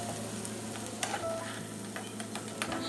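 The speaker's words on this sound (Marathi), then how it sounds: "मीडियम गॅस फ्लेमवर मसाला छान परतून घ्यायचा आहे" Masala paste sautés in a pan over a medium gas flame, producing a continuous close, dense sizzle with scattered small ticks and scraping stirs, and no voices.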